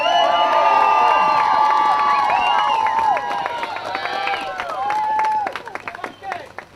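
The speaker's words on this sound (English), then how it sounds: "Let's have another round of applause for Penn Yan." Spectators at a 2021 Class B2 Section 5 girls' varsity soccer championship cheer, shout and clap loudly, with high whoops and screams fading into scattered clapping and voices.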